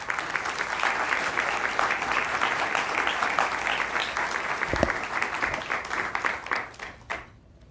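An audience at a NASA award ceremony breaks into sustained, dense applause that fills the room steadily before tapering off and fading out near the end.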